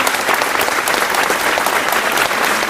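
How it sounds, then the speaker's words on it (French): Dense, steady applause from an indoor crowd at a political gathering in Nice, a continuous wash of clapping hands lasting a few seconds with no voices over it. "Alors, oui, vous pouvez les applaudir."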